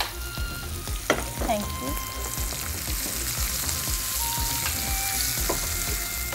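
Raw mushrooms fry in a hot pan with a steady crackling sizzle and occasional scraping stirs. A voice briefly speaks over the cooking.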